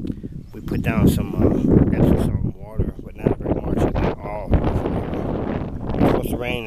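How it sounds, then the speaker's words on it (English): Wind buffets the microphone in rough, rumbling gusts beneath someone talking steadily throughout. "it's gusting. You can hear it on the microphone"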